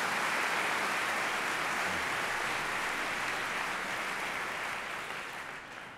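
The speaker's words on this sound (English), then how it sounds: "a big round of applause for Bill." A large audience at a school district back-to-school kick-off event gives sustained, dense applause that holds steady for six seconds and then slowly tapers.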